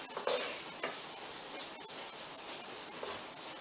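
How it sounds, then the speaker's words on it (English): Pork ragu frying in a pan, a steady close sizzle and hiss with a few scraping stirs and light clatters near the start, no voices. "So we're going to give that pork a stir around"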